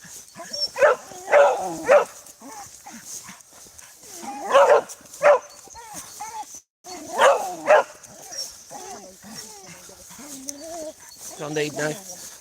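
Dogs bark in bursts of sharp, repeated barks at home, loud and close, with pauses between and people talking in the background.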